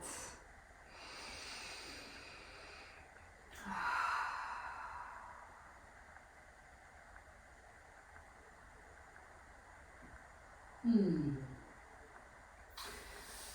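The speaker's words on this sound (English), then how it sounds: "starting to breathe in just in any way you want, and breathe out" Slow breathing during a morning yoga flow: a soft drawn-out inhale and a gentler exhale, then a sharper sigh-like breath later, all faint and close in a quiet room.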